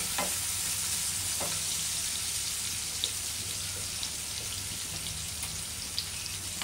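Eggplant and ground bitter gourd frying side by side in a pan give a steady close sizzle throughout, with occasional light clicks and stirring scrapes, no voices.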